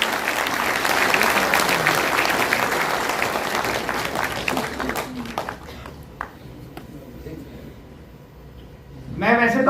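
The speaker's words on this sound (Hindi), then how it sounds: "जोरदार ताली से उनका सम्मान करें" Loud applause from an audience at a welfare association's Ambedkar birth anniversary celebration, strong at first then thinning into scattered claps before a burst of noise at the end, with voices mixed in.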